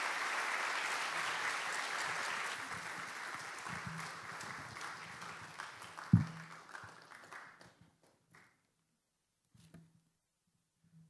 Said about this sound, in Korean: 우리 나오실 때 큰 박수로 격려해 주셨으면 좋겠습니다